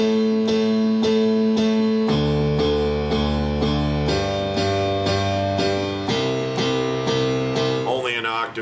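A keyboard plays the signature melodic line of a song over sustained chords, notes struck at an even pace, close and fairly loud, with a brief flourish at the end.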